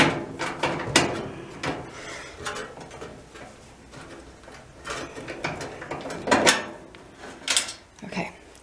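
A ratchet works a stubborn nut loose on a clothes dryer under repair, giving irregular clicks, scrapes and metallic knocks, close and moderately loud, with scattered bursts of effort between pauses.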